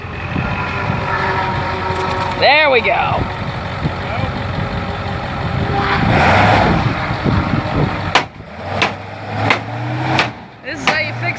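A truck engine runs at a Sebring racetrack, a steady low rumble under nearby talk and background noise, with a brief revving swell midway and several sharp knocks and bangs toward the end.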